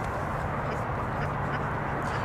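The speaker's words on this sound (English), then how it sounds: "Look, it's a ducky." A live duck quacks outdoors, with short raspy calls close by against a steady noisy background.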